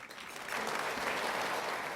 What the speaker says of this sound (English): thank you all for the beautiful round of applause after each name